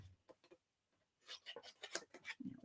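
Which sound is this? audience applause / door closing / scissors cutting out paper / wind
scissors cutting out paper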